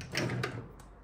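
A drawer in a home is pulled open or pushed shut, giving a brief, soft sliding rumble with a couple of light knocks, close by and fairly quiet, with no talking.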